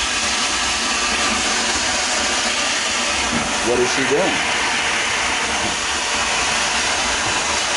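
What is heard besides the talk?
vacuum cleaner running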